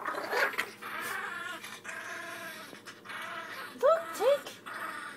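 A dog playing in a YouTube video makes short yips and rising whimpering cries, two sharper ones close together near the end, while a person talks over it.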